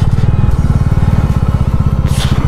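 Overloaded motorcycle riding slowly on a broken, patchy mountain road between Manali and Jispa, its engine thumping in a steady, loud, close rhythm with brief rattling near the end.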